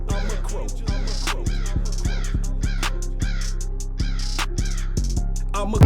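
A human voice imitates a crow, giving a long run of rhythmic, evenly spaced harsh caws, close and loud, with no other sounds.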